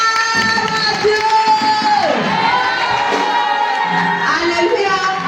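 A church congregation cheers and whoops for the Lord with sustained clapping. The crowd sounds loud and continuous, with voices swelling and shifting pitch throughout.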